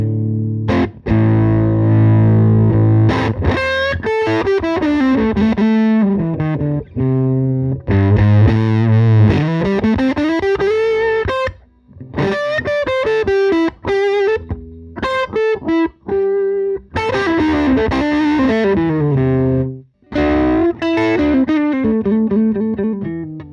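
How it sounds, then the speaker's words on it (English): An electric guitar runs through a fuzz pedal alone into a Fender Tone Master Super Reverb amp, giving loud, thick, buzzing chords and sliding riffs with short pauses between phrases. "if you use the fuzz by itself, yeah, it doesn't really work very well"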